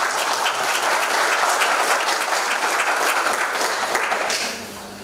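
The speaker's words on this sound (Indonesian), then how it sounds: "kita tepuk tangan buat SKK Migas" A large audience applauds at an oil and gas closing ceremony in Teluk Bintuni, a dense, steady wash of clapping for about four and a half seconds before it fades.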